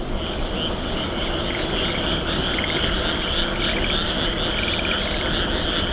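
Frogs croak loudly at night in a dense, continuous chorus heard during a bicycle ride, with a steady high insect-like trill above the croaks throughout.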